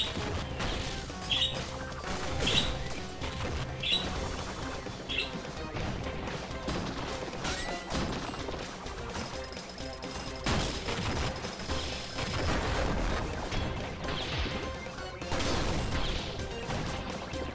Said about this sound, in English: I have bombs!